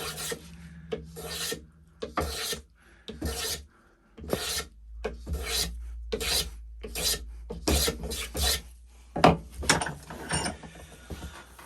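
A hand file rasping chamfers onto a wooden chisel holder, with repeated close scraping strokes in an uneven rhythm and short pauses between passes.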